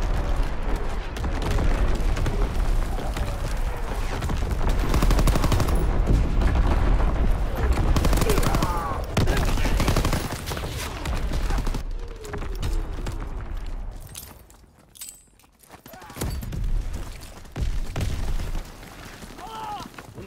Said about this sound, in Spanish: Artillería enemiga.